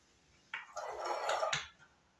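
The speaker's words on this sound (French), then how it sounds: "je mets mes 2 cuillères à soupe de flocons d'avoine à cuisson rapide" A spoonful of quick-cooking oat flakes lands in a Thermomix bowl for homemade cretons, giving a soft brief scrape and rustle with a light clink of the spoon at the start and end, close and quiet.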